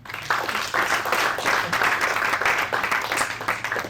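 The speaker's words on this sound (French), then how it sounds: "On t'applaudit à nouveau." Audience applause at a general assembly, a dense, even patter of clapping hands that starts almost at once and holds steady at moderate loudness for a few seconds.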